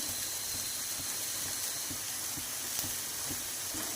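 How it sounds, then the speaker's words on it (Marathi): Pieces of bitter gourd fry and sizzle in a pan with turmeric, giving a steady, fairly quiet crackle with faint rhythmic scraping from stirring. "आता मी त्याच्यामध्ये हळद टाकते"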